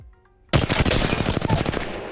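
Automatic gunfire in a shooting video game starts abruptly as one sustained, rapid burst of shots, loud and close, with no talking.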